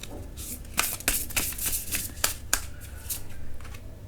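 Tarot cards are shuffled close up in quick riffling bursts of crisp papery flutter, repeated several times in a row with brief pauses between them.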